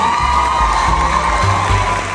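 A high school graduation crowd cheers, whoops and shouts for the basketball team in a loud, continuous roar with raised voices throughout.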